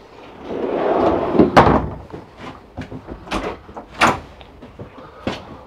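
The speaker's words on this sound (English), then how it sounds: "Once again on full extension drawers." Full extension drawers in a 2012 Eclipse Milan 24RBS RV trailer sliding open and shut, giving a series of close rumbling slides and several sharp knocks and clacks over a few seconds.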